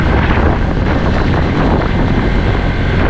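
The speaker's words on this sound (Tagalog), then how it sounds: "Medyo naluluha ako sa hangin, ang lakas ng hangin." Strong wind buffeting the microphone in a steady, loud roar with no letup.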